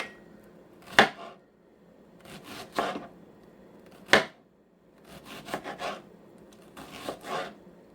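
Knife chopping through an onion on a cutting board at close range, sharp single knocks alternating with short clusters of crunchy slicing strokes, no talking.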